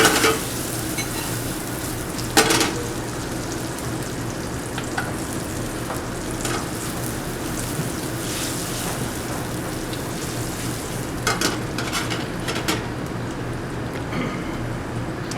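Garlic frying in a pan for risotto, a steady close sizzle with crackling bursts and occasional stirring scrapes throughout, no talking.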